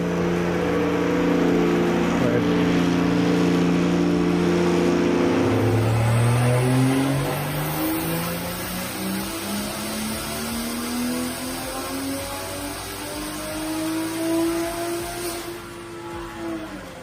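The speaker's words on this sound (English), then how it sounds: "Let's check out the car on the dyno and see what kind of noise it makes." A tuned 750+ hp 2020 Toyota Supra engine roars on a dyno, idling loudly before the revs climb in one long, steady pull to a high whine.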